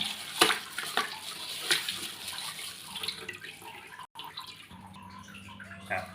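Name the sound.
washing salted tilapia fish in water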